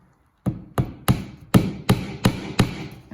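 A hammer drives a nail into a wooden board for string art with seven evenly spaced, sharp knocks, close and clear, each ringing briefly before the next.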